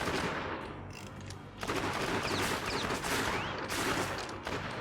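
Rapid gunfire from Nisha's guns in Borderlands crackles in dense, loud bursts, one brief pause splitting two long volleys of overlapping shots close up.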